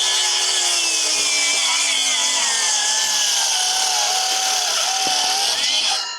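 A saw cutting a long bevel through a wooden roof-truss rafter on a home framing job, a steady, loud, continuous whining cut that runs unbroken for several seconds before winding down at the end.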